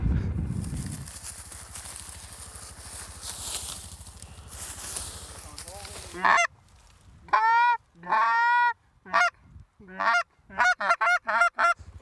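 Geese honk on Lac Saint-Pierre in Québec during a goose hunt, a steady distant flock murmur giving way to a loud, close series of repeated honks with short gaps between calls.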